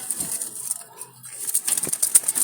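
Jalali pigeons with deep red eyes coo and flap their wings in a loft of about eighty birds, giving soft, scattered calls and brief fluttering bursts, with no talk.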